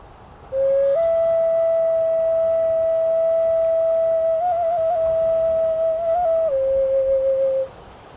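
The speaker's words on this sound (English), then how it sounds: "So they would communicate with an instrument played with the breath of life from the nose," A Polynesian nose flute, breathy, holds one long, steady note, stepping up slightly and wavering briefly before settling lower, then stopping after several seconds.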